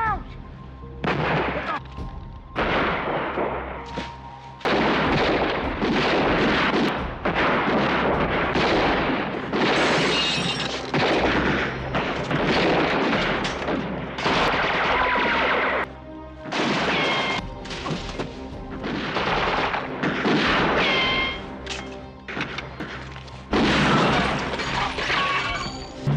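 Gunfire from a film shootout crackles in dense bursts of shots and crashes, loud and continuous, with brief pauses between volleys and voices mixed in.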